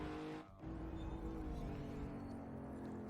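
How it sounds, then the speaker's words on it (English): Ford Mach1 race car at Watkins Glen braking hard, front tyres locking up: a loud, sustained engine roar with a squealing tyre tone running throughout, dipping briefly near the start. "I've braked a little bit too hard. I've locked up the fronts."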